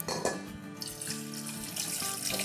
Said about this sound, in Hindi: इसमें अब हम डाल देंगे पानी